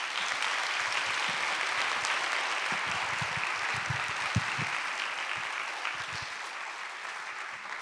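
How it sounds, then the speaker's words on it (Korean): A church congregation at a Friday service gives big applause to welcome Elder Yeo Un-hak to the pulpit, a dense, steady roar of clapping that fills the whole stretch and eases slightly toward the end. "강단 위로 올라오실 때 큰 박수로 환영하도록 하겠습니다"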